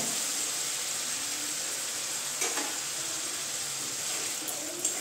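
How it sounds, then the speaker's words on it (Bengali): Cashew paste dropped into masala in a hot pan for a Bengali egg dish, a steady bright sizzle and hiss with a couple of faint spoon scrapes, no voice. "এখন আমি দিয়ে দিচ্ছি এই যে কাজু বাটাটা"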